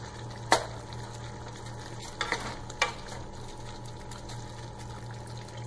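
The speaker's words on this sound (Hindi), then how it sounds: "और हम ऐड कर देंगे इसमें पनीर जो हमने फ्राई करके रखा है, इसे भी अच्छे से मिक्स कर लेंगे।" Fried paneer goes into a pan of onion-based Paneer Do Pyaza gravy and is stirred in, with a soft steady sizzle and a few sharp spoon-against-pan knocks close by, and no talking.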